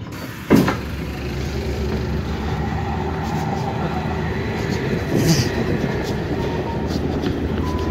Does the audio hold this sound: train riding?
yes